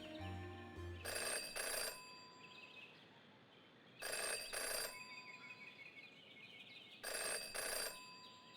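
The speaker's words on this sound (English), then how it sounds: "Jenny had learned never to ignore a ringing phone" A phone rings in the video game Jenny LeClue, three bright double-pulse bursts spaced about three seconds apart over quiet ambient music.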